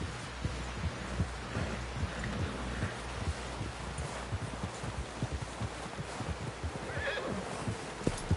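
A horse's hooves thud in a steady galloping rhythm in the video game Red Dead Redemption 2, close and heavy, with a snort and whinny rising near the end.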